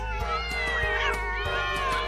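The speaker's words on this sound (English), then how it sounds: "Can you drive a bunch of cats all the way to Higgly Flats?" Several cartoon cats meow in a rhythmic run of wavering calls over a bouncy children's song backing, from the animated show Higglytown Heroes.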